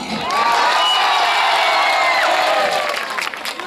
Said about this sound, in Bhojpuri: धर्मेंद्र प्रधान जी खातिर एगो गड़गड़ा के ताली